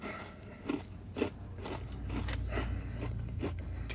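Crunchy orange-flavored chocolate candy being chewed, close irregular crunches and bites with a scraping, crackling texture, no talking.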